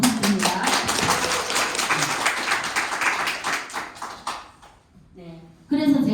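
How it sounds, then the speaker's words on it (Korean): Audience in a seminar hall clapping for themselves, a dense burst of applause lasting about four seconds and then thinning out, with a voice resuming afterward. "다 자기 자신에게 박수 한번 부탁드립니다."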